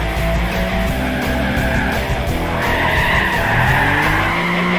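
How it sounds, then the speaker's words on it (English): Sustained squealing tires of a car drifting in the racing game Gran Turismo Prologue, loud and continuous over a revving engine, with sliding pitch swells throughout; no voices. "When drifting the cars on Gran Turismo Prologue, the techniques are actually very similar to real life as you'd expect."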